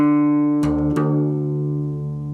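A guitar's low string is plucked during tuning down to drop D, a single sustained note ringing out with a brief second attack and a slow fade, close and clear with no talk.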